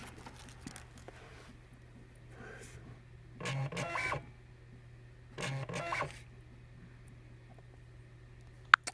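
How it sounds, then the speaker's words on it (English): A printer running off a delivery ticket, two short bursts of mechanical feeding and printing clatter separated by a pause, over a low constant hum in an otherwise quiet room. "it just goes ahead and prints straight away"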